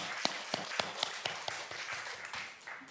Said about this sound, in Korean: 다시 한번 하나님께 영광의 박수 올려드립니다.